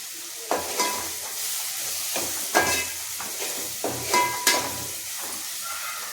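Food browning in hot oil in a pan for a jackfruit vegetable dish, a steady close sizzle with several sharp stirring scrapes breaking through at intervals.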